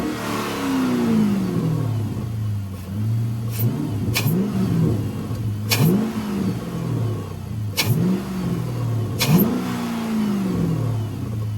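A Chrysler 300 with a cold air intake revs in five or six sharp bursts, each climbing then dropping back to a steady idle, loud and close.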